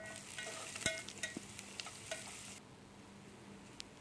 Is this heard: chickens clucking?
no